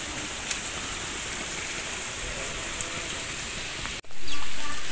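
Heavy afternoon rain pours down over a quiet countryside village near a mosque, a dense, steady hiss of raindrops with occasional sharper drips, ending in a sudden brief cut and swell.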